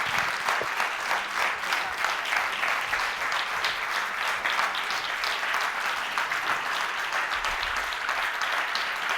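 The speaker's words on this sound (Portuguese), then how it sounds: "Um grande aplauso." An audience at a public presentation of a national child guarantee action plan gives sustained applause, a long, even, dense clatter of many hands heard at moderate volume.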